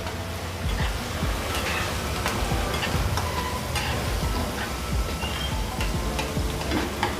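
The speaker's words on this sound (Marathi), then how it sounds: "आणि ही मी लाल मिरची घेतलेली आहे सुकी मिरची ती पण फोडणीला टाकते" Dried red chillies sizzle in hot oil with ginger-garlic paste while tempering a pan for stuffed brinjal; a steady, close crackling hiss with scattered sharp pops runs throughout, with no talking.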